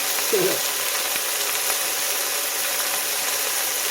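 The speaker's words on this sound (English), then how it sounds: "Now that's a sizzle, huh?" Steady, bright sizzling of round steak frying in a pan, a continuous crackling hiss with a brief clink of utensils near the start.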